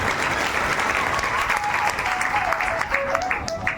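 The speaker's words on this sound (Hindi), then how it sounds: "तो जोगिंदर सैनी जी के लिए एक बार जोर से ताली।" Sustained applause from an audience honoring Joginder Saini at a gathering, dense steady clapping filling the whole stretch with crowd murmur and a voice faintly underneath.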